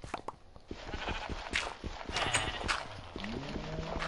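Sheep bleat repeatedly in a farming video game on PS4, mixed with clip-clop-like footsteps and game effects, fairly close and busy throughout.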